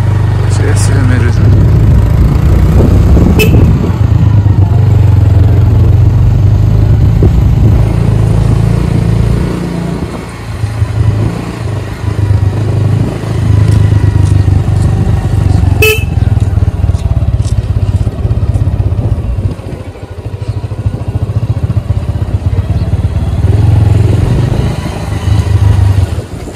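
A motorcycle slows to a stop in Kalimpong: a steady, close engine rumble runs throughout, dipping briefly partway through, while people talk over it.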